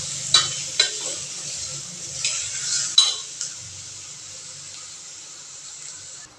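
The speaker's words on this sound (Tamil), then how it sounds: "உருளைக்கிழங்கு, தக்காளி எல்லாத்தையும் சேர்த்து நல்லா அந்த இஞ்சி பூண்டு பேஸ்ட்டோட நல்லா வதக்கி விட்டுக்கலாம்" Potatoes and tomatoes sautéing with ginger garlic paste in a pan, a steady frying sizzle under several sharp spoon scrapes and clinks against the metal, close and fairly loud with no talking.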